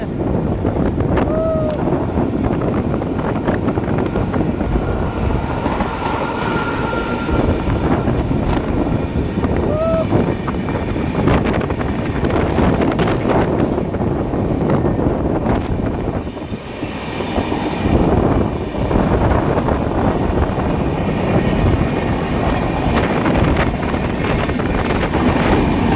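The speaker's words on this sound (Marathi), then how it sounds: "माझा मुंबईची जी मेट्रो आहे लोकल ती पण यायला लागल्या" A Mumbai local train races alongside a moving long-distance train, giving a loud, sustained rolling rumble and rattle heard from inside the carriage, with heavy wind buffeting and faint voices in the background.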